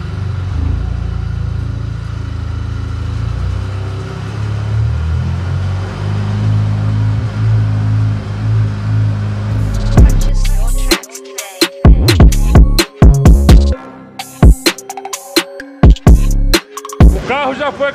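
VW Jetta TSI engine revving on a dynamometer in third gear: a loud, sustained engine drone rising in pitch, then breaking into choppy bursts and pops toward the end.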